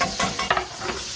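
Chopped onions and celery sautéing in butter and a little olive oil, a brief close sizzle with stirring scrapes and clatters, no talk.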